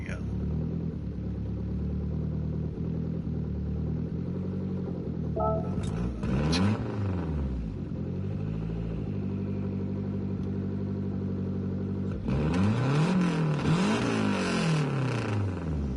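A car engine in Gran Turismo 7 drones steadily, then revs up in rising and falling sweeps, ending in a loud, sustained revving burst with gear-change swoops.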